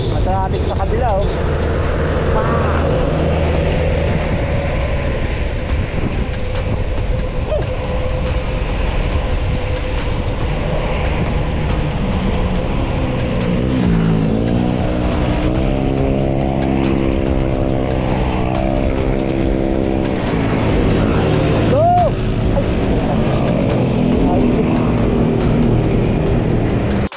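Road traffic passes nearby as a loud, continuous rumble of engines and rolling tyres that never lets up, with people talking over the noise.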